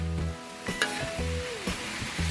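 Chopped garlic and ginger fry in a pan for bacon gochujang fried rice, giving a steady, close sizzle with a few soft stirring clicks.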